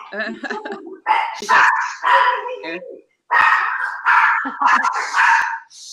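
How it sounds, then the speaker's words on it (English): A dog barks close and loud at a glass door, six or seven sharp yaps and short howling barks in quick bursts with brief gaps, while a person speaks briefly over them. "Oh goodness, that's my dog."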